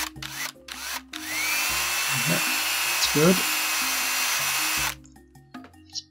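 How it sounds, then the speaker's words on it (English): A 6mm drill bit grinds into the rivet of a 1954 Mercedes-Benz W196R Budgie toy car during restoration, a steady close whir with a couple of heavier bites, starting and stopping, with a brief spoken word near the end. "As usual, I'm using the 6mm drill just to take the edge off the air rivet there."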